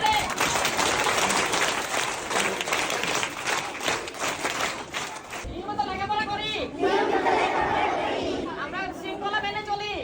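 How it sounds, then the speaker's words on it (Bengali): Children clapping their hands together at a school scout-style initiation ceremony, a dense burst of hand claps mixed with lively chatter that gives way to children's voices calling out over the noise. "তোমরা হাততালি দেওয়া শিখছো"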